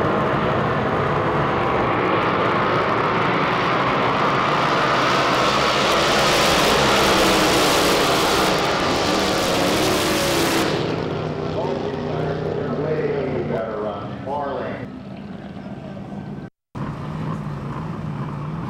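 Drag boats roar past in a sustained, loud, broadband engine blast, with power ranging from about 400 to 7,000 horsepower and running on race fuel or nitromethane. The roar fades after about ten seconds, leaving a quieter rumble with a passing pitch sweep.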